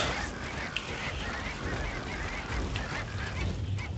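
Geese honking loudly and continuously, a dense overlapping chorus of many birds close by for the whole four seconds.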